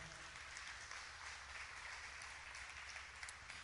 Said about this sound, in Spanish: Dale un aplauso si lo crees, aleluya.